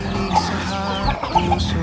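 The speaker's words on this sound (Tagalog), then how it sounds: "ang dami ng manok" A flock of chickens clucks steadily and close by, with overlapping soft calls and a few sharper squawks over a continuous farmyard din.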